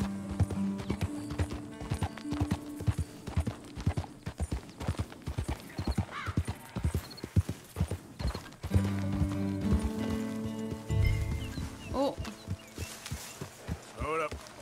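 Horse hooves and neighing in Red Dead Redemption 2: a close, rhythmic clip-clop of a ridden horse, with whinnies toward the end and some brief talk mixed in.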